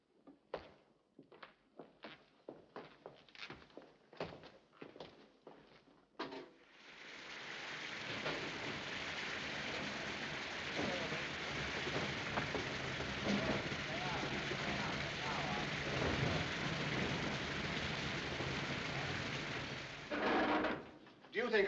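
Heavy rain starts abruptly after a few seconds of short knocks and talk, then pours in a loud, steady roar until near the end.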